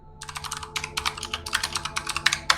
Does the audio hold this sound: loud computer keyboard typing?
yes